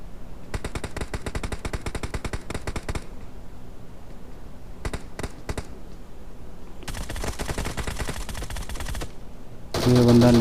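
In a shooter video game, rapid automatic gunfire rings out in several long, loud, close bursts separated by brief gaps and a few single shots, with another burst at the very end.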